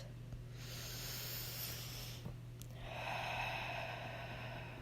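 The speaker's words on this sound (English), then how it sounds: "take 2 or 3 nice deep breaths" Slow, deep breaths drawn in and let out, two long airy hissing passes close to the microphone, with no speech over them.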